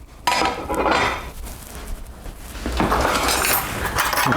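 A plate is set down with a clatter of dishes and a light clink of cutlery, followed by softer handling and rustling sounds, with no talking.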